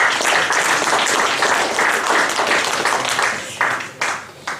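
A church congregation applauds loudly and continuously, dense clapping that holds steady before tapering into a few uneven, fading bursts.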